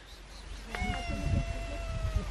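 Several cats meow close by in a Turkish village, short overlapping cries in quick succession over a low background rumble.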